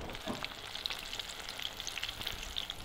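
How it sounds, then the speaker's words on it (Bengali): Chicken and vegetable pakoras in a batter of gram flour, arrowroot, baking soda and egg frying in hot oil, a continuous crackling sizzle with small pops, close and moderately quiet. "আর পকোড়াটা ভাজছি"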